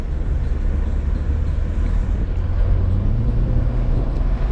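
A BMW 328xi E90 engine pulls under acceleration inside the car, a low steady hum with a slowly rising tone over road and wind noise.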